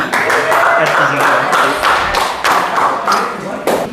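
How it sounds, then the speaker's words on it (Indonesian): A class applauds after a group's school presentation, with dense, steady clapping from many hands that carries through the whole stretch, a few sharper claps standing out and some voices mixed in. "Ya, bagus, tepuk tangan."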